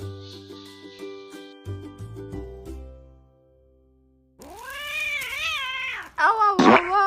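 A wounded cat being treated with grated turmeric on its injury meows loudly and close by, several drawn-out, wavering cries near the end after quieter tonal sounds earlier.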